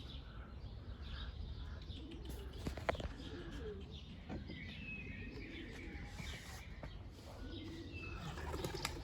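Tumbler pigeons, kept as Turkish playing birds, give soft cooing and chirping calls at a loft, steady and moderately near, with occasional wingbeats and no talk.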